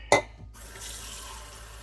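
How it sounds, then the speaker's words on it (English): Tap water pours into a cup in a home kitchen while barbecue rice and vegetables are being cooked, a brief close gush of running water that quickly stops, followed by quiet room tone. "Another cup of water."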